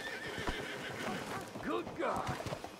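A horse whinnies twice in Red Dead Redemption 2, the shrill, wavering neighs rising clearly over someone talking, with faint hoof clatter and other game sounds in the background.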